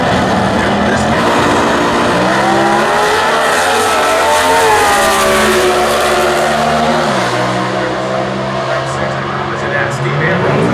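A 2009 Pontiac Sunfire drag car in Comp Eliminator at the US Nationals in Indy, its engine roaring loud and rising in pitch as it launches and accelerates, with a track announcer talking over it.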